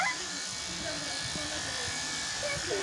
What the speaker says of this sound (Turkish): Evet şimdi tıraş ediyorlar.